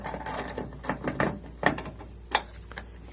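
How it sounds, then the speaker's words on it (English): A long deep socket tightening a screw on a Toyota Sienna door, giving quick uneven ratcheting clicks and metallic ticks in close, irregular bursts without speech. "Just taking my long socket, deep socket, tightening."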